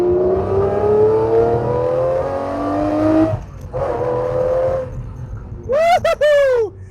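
A Lamborghini Murcielago SV engine revving hard, rising in pitch through the gears in long loud pulls, then a brief lift, another climb and a final sharp high-revving burst, close and dominant.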